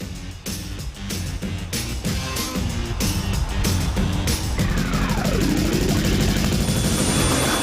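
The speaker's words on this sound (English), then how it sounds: "This is the first time I'm boarding a helicopter to go whale watching" A helicopter's rotor thumps rapidly and steadily up close, its engine whine rising and growing louder as it spools up.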